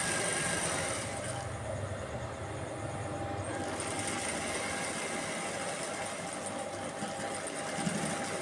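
Sewing machine stitching down a folded pant hem, a steady close mechanical whir running continuously with slight shifts in pace and no talk over it.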